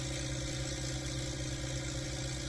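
A modified HMT 3522 tractor engine runs steadily at idle, a loud, continuous diesel rumble with a constant low throb and mechanical whir and no voices.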